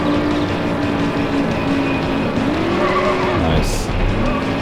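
Car braking in Need for Speed High Stakes, engine tone dropping sharply as the tyres give a brief skidding squeal near the end, loud and close with a voice underneath.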